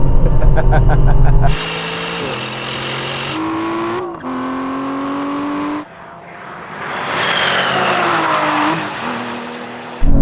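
Aston Martin V12 cars in a drag race, loud engines screaming through rising gear changes with sharp shift breaks, a brief lull, then another roaring pass building up, close and forceful throughout.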